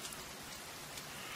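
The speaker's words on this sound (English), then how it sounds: "Well, it's actually raining now" Steady rain falls in the survival video game The Forest, a soft continuous hiss of drops with faint crackling detail, quiet and even throughout with no speech.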